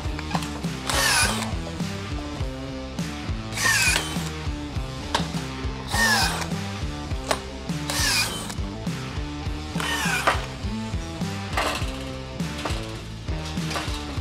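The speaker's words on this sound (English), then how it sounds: "make sure and put your drill on one and put it in the highest gear that it can go on the drill" A power drill set to its highest gear twists easy twist ties onto chain link fabric on a gate, a steady mechanical whir and ratchet with a louder surge roughly every two seconds, close and loud without talk.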